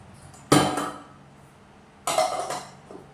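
A spoon scrapes and knocks against a container while scooping thick Flinkote coating, making two separate bursts of clattering metallic clinks close up, each fading over about half a second.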